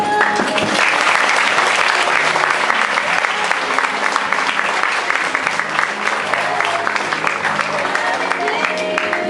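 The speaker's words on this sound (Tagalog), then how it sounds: "tumayo at atin silang palakpakan" An audience at a graduation ceremony bursts into loud, continuous applause, dense clapping from many hands filling the hall, steady and unbroken throughout.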